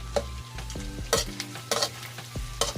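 Pork fries with shrimp paste, bagoong alamang, in a pan: a low background sizzle under several sharp, close scraping and clanking stir strokes spaced irregularly, plus a few tonal metallic scrapes.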